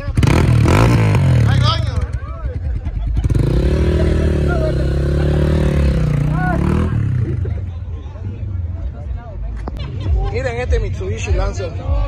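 A Mitsubishi Lancer roars past during a street race on an avenue, its engine note rising and revving loudly up close amid a noisy, excited crowd talking and shouting.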